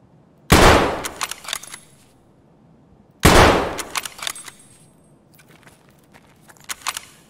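Two loud, sharp unsuppressed sniper rifle shots in a video game, spaced about three seconds apart, each followed by a rolling echo and scattered clicks and rattles.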